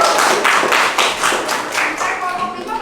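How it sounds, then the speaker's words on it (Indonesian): A classroom group claps together in a mathematics lesson, a brisk run of sharp, close hand claps lasting a few seconds with faint voices underneath. "tepuk tangan untuk kelompok."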